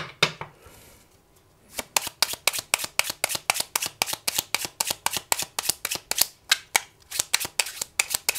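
Oracle cards are shuffled by hand in quick, regular riffling bursts, close and crisp, repeating steadily after a brief pause at the start.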